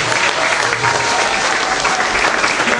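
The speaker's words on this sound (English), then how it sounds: "Let's give them a big round of applause" A crowd gives a big round of applause on a film set after a harbor attack scene is shot, a thick, sustained roar of clapping at steady volume with almost no voices.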